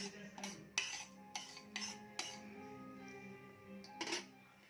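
Light clinks of a metal spoon against a pot as fenugreek seeds go into oil, a few sharp taps, with faint sizzling oil between them. The sounds are quiet, close and irregular.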